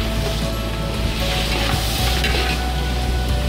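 Onions, tomatoes and green chillies go into hot oil after chicken is fried golden for a chicken majboos, giving a steady dense sizzle with faint stirring and pan clinks throughout, close up and without talk.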